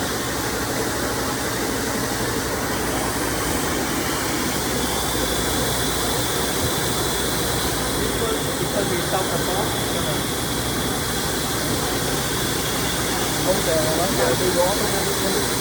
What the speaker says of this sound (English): Two color printing, inline UV, ATMA press